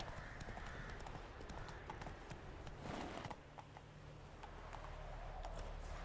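Rhythmic clip-clop of horse hooves at a quick gallop in The Witcher 3: Blood and Wine, steady and continuous, moderately close, with faint background ambience and no talking.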